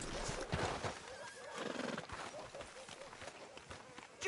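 A horse in the Red Dead Redemption 2 video game gives a short close whinny and snort alongside clip-clopping hooves, with someone speaking over it.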